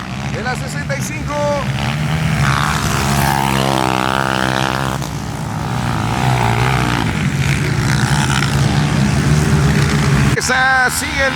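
Novice CG-class motorcycles race around a track at an amateur event, engines droning and rising in pitch as bikes pass, with an announcer talking loudly over the continuous roar.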